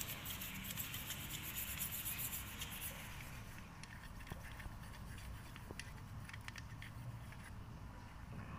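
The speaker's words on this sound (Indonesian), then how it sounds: "kita sikat lagi" A brush scrubs a Toyota Etios taxi engine bay clean with steady, close rubbing strokes, fading slightly toward the end with a few soft taps and clicks.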